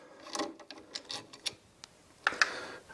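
Small screws are undone on a Devilbiss Cobra mobility scooter controller, producing faint, close, irregular clicks and metallic ticks of the tool turning, with brief scraping and no speech.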